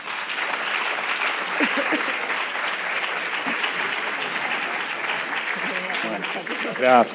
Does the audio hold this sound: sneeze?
no